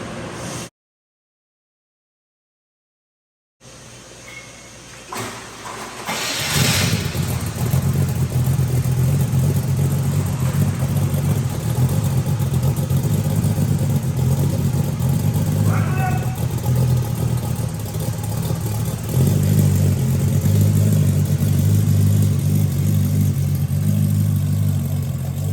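A restored 1979 Pontiac Trans Am engine starts after a brief silence, then settles into a loud, steady, close-up idle with a deep rumble, swelling to a stronger rev near the end.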